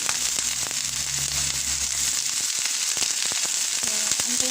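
Onion, garlic and ginger sauté in oil for black chicken soup, a loud, continuous sizzle with sharp crackles and pops, a low hum early on and a few clinks near the end, without speech.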